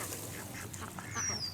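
A duck gives a short, nasal quack, fairly faint and set against a hissy, noisy background, with a thin whistling tone near the end.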